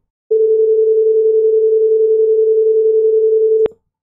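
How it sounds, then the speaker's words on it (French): A pure 440 Hz sine tone plays steadily and loudly for a little over three seconds, alone, then cuts off abruptly with a sharp click. "je vais entendre une tonalité pure, un son de juste un sinus parfait à une fréquence de 440 Hz"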